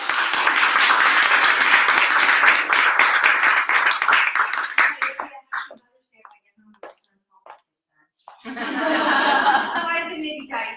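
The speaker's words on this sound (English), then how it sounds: "let us please welcome and invite with a warm round of applause, Jennifer" Warm applause from a congregation at a Sunday spirit service, dense clapping for about five seconds that tapers into scattered claps and quiet, followed by soft laughter and murmuring voices.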